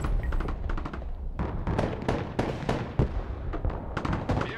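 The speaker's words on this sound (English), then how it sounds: "Someone knows how to use artillery on their side now." Artillery fire in the war game Broken Arrow: a dense run of sharp explosive cracks and thuds, dozens of rapid overlapping blasts at mid distance, steady and loud throughout with no voices.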